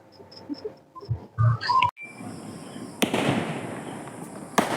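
Diwali firecrackers and fireworks go off around a neighbourhood during Kali Puja, bringing a few close sharp pops and then a big burst with a crackling tail, plus a last loud bang, while faint chirps sound in the background.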